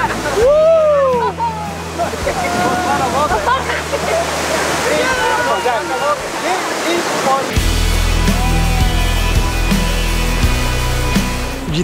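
Waterfall at peak spring flow beside a creek on a trail in Yosemite National Park, a loud constant rush of falling water with people talking over it.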